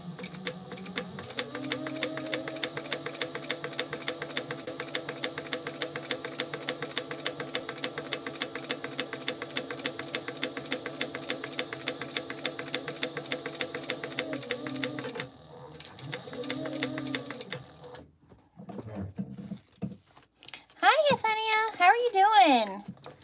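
A sewing machine stitches fabric while sewing a small back pocket, running in a steady, rapid, even rhythm for about fourteen seconds, then in a few short bursts, with a voice talking near the end.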